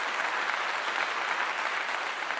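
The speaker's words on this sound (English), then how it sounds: "Clap to you." An applause sound effect: a steady, dense wash of clapping hands that holds at an even level throughout, with no voices over it.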